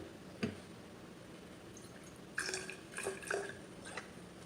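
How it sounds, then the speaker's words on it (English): Vinegar poured into a salad dressing bottle up to a marked line, a few close, quiet liquid glugs and drips coming in short bursts. "Pour vinegar to V-line."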